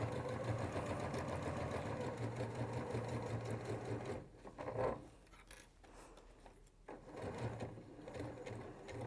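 A domestic sewing machine with a universal size 16 needle stitches along the edge of a cork fabric bag, running steadily and loudly, then pausing briefly mid-clip before resuming its fast, even whirring.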